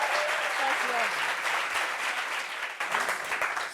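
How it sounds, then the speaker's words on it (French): A studio audience on a French talk show claps loudly, a dense, sustained round of applause running throughout with faint voices beneath it. "si vraiment tu ne mens pas, tu mérites des applaudissements."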